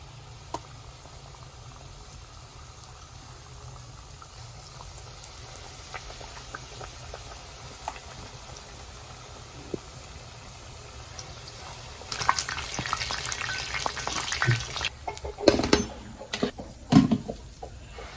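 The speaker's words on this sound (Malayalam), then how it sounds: "അപ്പൊ നമുക്ക് മാവിൽ മുക്കിയിട്ട് പഴംപൊരി എണ്ണ ചട്ടിക്ക് ഇട്ട് കൊടുക്കാം." Batter-dipped banana fritters (pazhampori) fry in a pan of hot oil, a soft continuous sizzle that grows into louder bubbling and crackling bursts near the end, with occasional utensil clicks.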